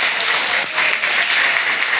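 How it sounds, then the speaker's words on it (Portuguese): A church congregation applauding during a Wednesday evening service: steady, dense clapping from many hands fills the whole stretch at an even level, with no voices standing out. "Vamos aplaudir a Jesus."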